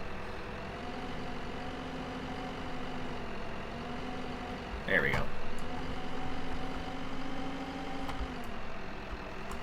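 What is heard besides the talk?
tractor engine in Farming Simulator 2015 video game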